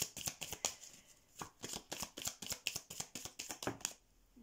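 Tarot cards riffled and shuffled by hand, a rapid run of close, crisp flicks and slaps in quick bursts with brief pauses, no talking.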